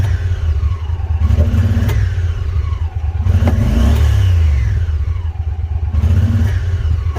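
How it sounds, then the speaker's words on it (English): A Honda Pioneer 1000 side-by-side with a failing fuel pump revs loudly in repeated bursts, its engine burbling, stuttering and popping as it rises and falls, close up with no talk. "if I try to rev it up, hear that burbling, that popping?"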